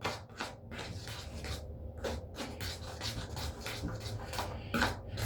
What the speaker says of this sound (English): I'm just gonna stir everything up before applying it